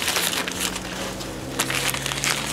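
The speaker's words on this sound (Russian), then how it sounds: "Ну тут вот жесткий, да, в этом специальном таком вот пупырчатом пакетике." A bubble wrap bag holding an IDE hard drive crinkles and crackles up close, a continuous run of rustling and small popping crunches with a few louder crackles.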